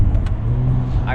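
An Audi RS3 accelerates hard, its engine droning loud and steady from inside the car, with a voice talking over it.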